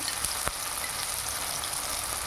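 Oil sizzles in a pan while mourala fish curry cooks with chopped tomato, giving a steady, even crackle and hiss with a couple of brief louder spits, close by and without talk.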